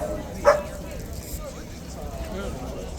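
A single short dog bark near the start, fairly close, followed by quiet background noise and faint murmuring.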